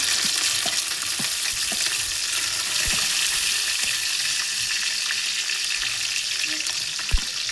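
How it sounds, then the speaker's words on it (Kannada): Green chilies and curry leaves sizzle steadily in hot oil, a continuous close frying hiss with a few stirring clicks and one sharp knock near the end, no voices. "ಸೊ ಇವಾಗ ಹಸಿಮೆಣಸು ಹಾಕ್ತಿದ್ದೀನಿ ಮತ್ತು ಕರಿಬೇವು ಸೊಪ್ಪು"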